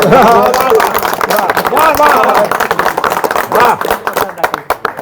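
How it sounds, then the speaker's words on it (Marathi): A crowd claps throughout a political gathering in Malvan, the clapping a dense, steady patter of hand claps mixed with loud talk in the foreground. "टाळ्या वाजवा रे साहेब"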